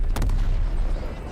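Explosion and gunfire in a video game, a heavy low rumble with a couple of sharp shot cracks near the start, loud and close.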